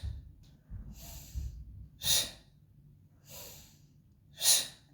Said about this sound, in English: you hear how sharp the breathing is, especially the exhalation